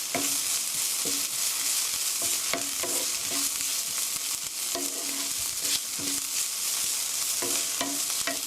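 A utensil scrapes and clatters rhythmically against a pan, stirring onions and eggs for a rice bowl while food sizzles steadily underneath, close by with no talking.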